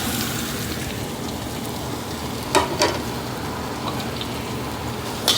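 Garlic, onion and ginger sauté in a hot pan with a steady, dense sizzle, broken by a few clinks of a utensil stirring the mix.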